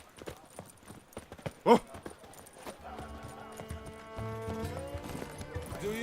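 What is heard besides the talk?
horse Roach trotting in video game The Witcher 3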